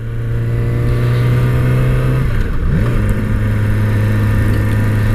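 A motorcycle engine drones steadily while riding, the pitch dipping briefly then climbing back as the rider shifts, loud and continuous over road and wind noise.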